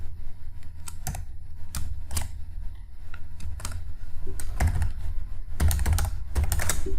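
C code is typed on a computer keyboard in quick irregular bursts of close, crisp key clicks over a low steady hum, with no voices.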